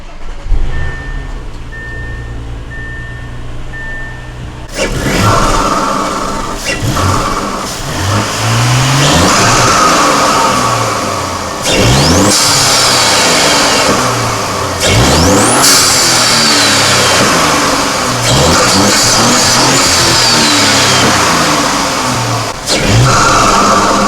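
An Audi B9 SQ5 engine with an 034 Motorsport cold-air turbo intake revs hard again and again, loud and close, with rising and falling sweeps and a faint turbo whistle over a deep rumble after a quiet start.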